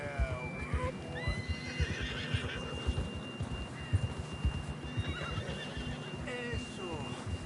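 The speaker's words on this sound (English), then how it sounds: "John was riding that horse when we left Blackwater." A horse in Red Dead Redemption 2 whinnies several times over a steady clip-clop of hooves, with a faint low hum in the background.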